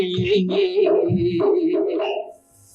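A dog's drawn-out howls and yips come through in an old Tamil film song, rising and falling in long wavering notes before cutting off abruptly near the end.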